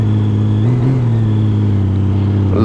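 A six-cylinder touring motorcycle engine runs with a loud, smooth, steady low hum close up, with a slight rise in pitch near the start and no pauses.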